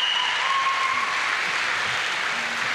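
A crowd applauds a 50-metre breaststroke champion at the British Gas Swimming Championships finals, a dense, steady wash of clapping in an echoing pool hall with no break.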